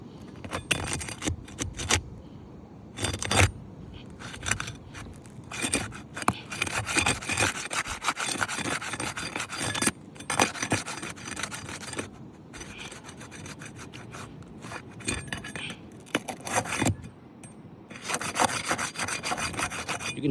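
A damaged asphalt roof shingle pried up to break its seal, with a long run of close scraping, rasping and crackling bursts, irregular and loud, as granules shake loose and fall; no one speaks.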